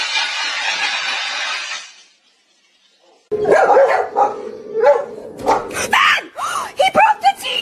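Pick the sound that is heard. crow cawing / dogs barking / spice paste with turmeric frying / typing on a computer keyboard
dogs barking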